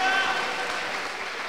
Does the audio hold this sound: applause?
yes